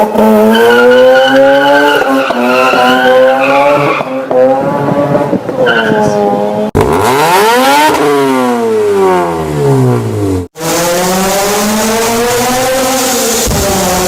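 Mazda RX-8 with a rotary engine, loud and close, revving hard through rising and falling sweeps, with a sharp shift or tire squeal midway and a second car passing later; no talk.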